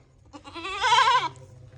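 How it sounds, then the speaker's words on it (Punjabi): A single goat bleats once, close and clear, a wavering cry lasting about half a second against a quiet background. "ਦੇਖੋ ਬਈ ਸ਼ੇਰੀ ਕਿੱਡੀ ਬੱਕਰੀ ਆ"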